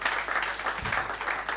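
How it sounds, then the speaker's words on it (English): Audience applause at a business summit on infrastructure, a steady wash of clapping from a crowd that fills the short stretch evenly at moderate volume. "can we give him another round of applause?"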